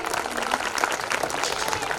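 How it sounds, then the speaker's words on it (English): Audience applause for nursery and KG1 children at a school annual day celebration, a steady wash of many hands clapping at once, fairly dense and continuous throughout. "So please a big round of applause for all of them inside"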